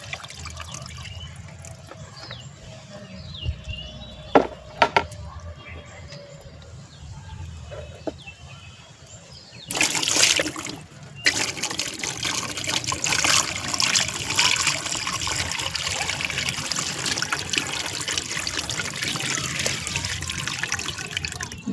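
Water is poured over the soil of a freshly planted lotus tuber, a soft trickle that builds into a steady close splashing flow after a few faint knocks and a brief louder gush.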